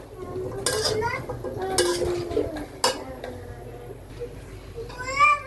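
Mixed vegetables get stirred in a pan with a metal spoon, giving repeated scraping and clinking strokes in bursts, close and moderately loud over a low kitchen background.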